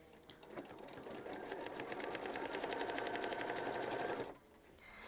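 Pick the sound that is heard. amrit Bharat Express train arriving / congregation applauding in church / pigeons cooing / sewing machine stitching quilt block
sewing machine stitching quilt block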